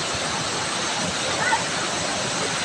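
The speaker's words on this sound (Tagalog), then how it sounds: "Kasi sa bukid, kusog na ang baha." Muddy brown floodwater from farm fields rushes past and carries stones along. It makes a loud, unbroken roar close by, with a voice faintly heard at moments.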